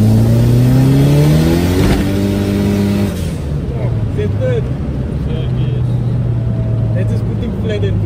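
A Nissan SR20DET turbo engine rises loudly in pitch under boost, drops briefly as the throttle eases, then settles into a steady drone, all close and without voices.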